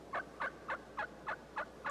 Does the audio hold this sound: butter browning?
no